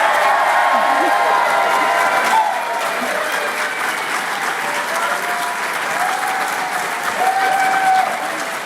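Loud, sustained applause from a graduation audience for the graduating class of 2026 at the Institute of Policing and Justice, dense clapping mixed with scattered cheers, continuing for several seconds with voices faintly beneath.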